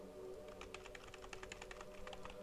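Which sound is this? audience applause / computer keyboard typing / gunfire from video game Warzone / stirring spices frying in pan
computer keyboard typing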